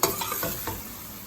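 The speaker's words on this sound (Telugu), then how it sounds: "1 స్పూన్ కారము వేసుకొని తిప్పుకోవాలి" Chili powder and coriander powder frying in oil and being stirred for an egg curry, a brief close sizzle with a few soft scraping strokes near the start, no voices.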